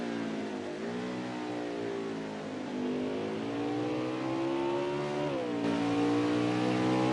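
Race cars lapping Road America in a CFRL Cup Series race: a steady, loud engine drone with rising and falling pitch as cars accelerate and shift, continuous for several seconds with no talk.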